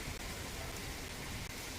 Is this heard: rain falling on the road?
yes